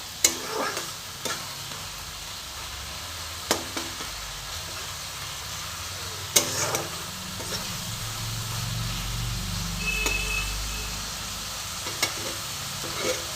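Spice paste sautéed and stirred in a pan for rohu fish kofta curry, a continuous close sizzle and fry broken by sharp scraping clicks of a spoon against the pan every few seconds, over a low rumbling hum.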